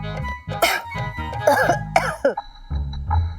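A person coughs repeatedly in short, harsh bursts, close by, with a brief throat-clearing sound near the end.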